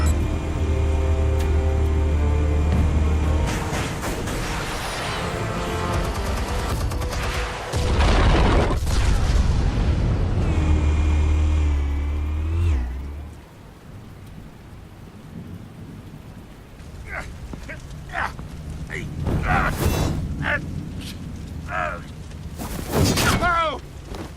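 Explosion in the video game Batman: The Telltale Series, a deep booming blast with a long rumbling roll that fades out, followed by scattered crashes and debris hits, with a voice coming through amid the noise.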